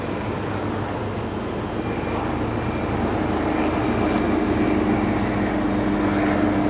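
Steady roar of an aircraft departing Brisbane Airport, a broad engine rumble with faint tonal whine that swells gradually as it draws nearer, with no voices.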